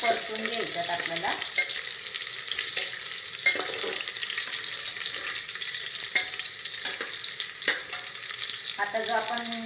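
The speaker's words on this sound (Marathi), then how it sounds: "आता ज्या आपण मिरच्या चिरून ठेवल्या होत्या त्या घालून घेऊया आणि एक दोन मिनटं मिरच्या छान परतून घ्यायच्यात आपल्याला।" Chopped green chillies sautéing with onion in a pan for vegetable pulao: a steady loud sizzle with repeated scraping stirs and occasional soft clinks, and brief faint voice traces at the start and end.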